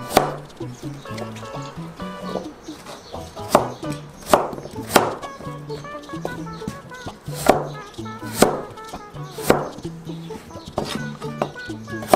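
Radish being chopped with a knife on a board for kkakdugi, a series of sharp, evenly spaced thuds up close, with someone talking over them.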